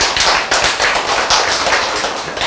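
Applause from an audience at a church sermon gathering, a steady dense patter of many hands clapping, close and loud, with no talk over it.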